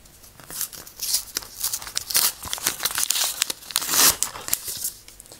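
A paper surprise packet is opened by hand, giving close, loud, irregular bursts of crinkling and crumpling paper with sharp tearing rips, continuing busily for about five seconds without speech.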